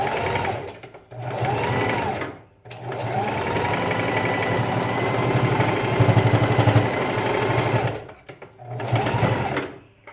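Sewing machine stitching fabric face masks in bursts: a short run, a brief pause, then a long steady run of rapid needle clatter and motor whir, then another short burst, close and loud.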